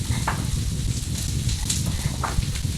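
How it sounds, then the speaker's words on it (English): Onions sizzle loudly in a hot frying pan, a constant crackling hiss with occasional sharper pops and a low rumble underneath. "That beautiful sizzle needs to come down a notch."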